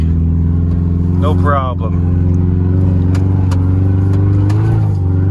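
A Subaru drift car fitted with snow tires holds a loud, steady engine drone close to the microphone, with a brief voice speaking over it partway through.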